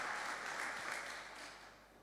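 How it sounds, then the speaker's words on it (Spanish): A church congregation claps during a service, with a brief, dense burst of applause that fades slightly toward the end. "Dale un fuerte aplauso al Señor."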